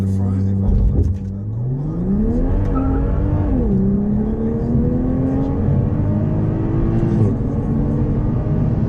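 A stock Toyota A90 Supra accelerates hard through a 0-60 run, its engine note climbing loud and close through rising revs with a gear change about midway, heard from inside the car.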